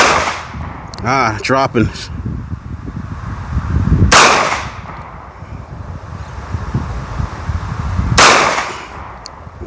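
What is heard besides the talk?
Taurus pistol gunshots at target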